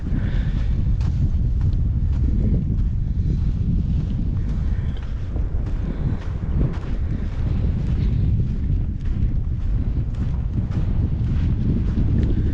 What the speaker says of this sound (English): The wind really picked up and started blowing sand in my eyes